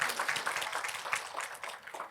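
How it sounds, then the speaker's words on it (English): An audience at a seminar claps together, a brief dense patter of many hands that lasts a couple of seconds at moderate volume. "Tali bajao bhai."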